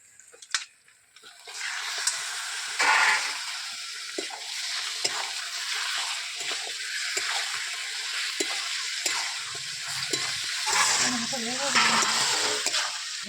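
Steady sizzling of chicken and capsicum frying in a pan with occasional stirring scrapes, loud and close, with brief faint voice near the end.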